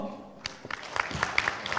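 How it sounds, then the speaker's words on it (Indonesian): Audience members clap at a church quiz competition, a Pesparani audition in North Sumatra, with scattered, uneven claps building into light applause that is moderately loud, no one speaking over it. "Kita berikan tepuk tangan."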